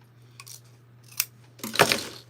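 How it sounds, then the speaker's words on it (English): Scissors snip through fabric during sewing, a few short crisp cuts, the last pair louder and closer, over a steady low hum. "So we're gonna trim this."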